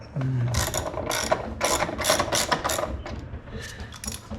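A ratchet tightens a screw on a 2021 Honda Trail 125 motorcycle, producing a rapid series of close, loud clicking bursts in short strokes, one after another.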